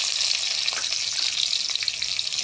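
Chopped onion fries in hot oil while being gently stirred, a continuous dense sizzling hiss with soft scraping strokes mixed in and no pauses.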